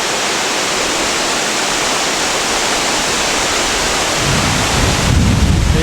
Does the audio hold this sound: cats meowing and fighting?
no